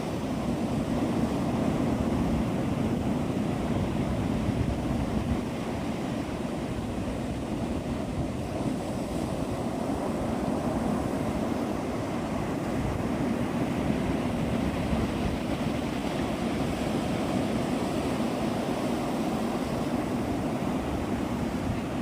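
Steady broadband roar of surf and wind on Navarre Beach, Florida, at sunrise, continuous and fairly loud throughout with no voices.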